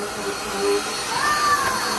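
A vacuum cleaner runs steadily at home, a continuous whining hum filling the short stretch with a rising tone near the end.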